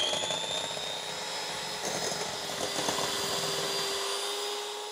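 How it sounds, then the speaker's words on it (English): An electric whisk beating cream for mint ice cream gives a loud, steady high-pitched whir that runs throughout, with slight changes in pitch as the beaters move through the thickening cream. "So let's just give this a whisk."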